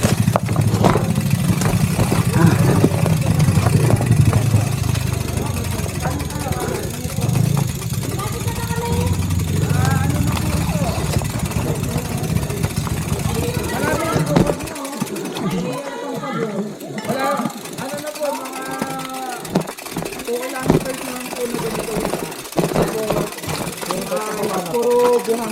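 Engines idle and rumble nearby, then motorcycles pass by on a road in the Philippines as people talk over the noise throughout.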